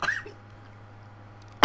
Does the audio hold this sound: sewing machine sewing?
no